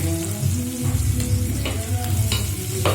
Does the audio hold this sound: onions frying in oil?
yes